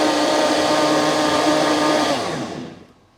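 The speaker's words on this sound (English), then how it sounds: "Now I'm going to puree this one more time." A blender purees a mung bean egg mixture with oil in a loud, steady, high whirring drone close by, then winds down and fades out near the end.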